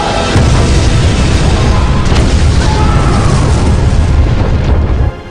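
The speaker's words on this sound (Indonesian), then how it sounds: "akhirnya dia mengambil api dan menyelupkan pada tong bahan bakar yang mengakibatkan ledakan yang cukup besar" A fuel barrel explodes with a big, loud boom that fills the whole stretch as a sustained, heavy roar before cutting off abruptly at the end.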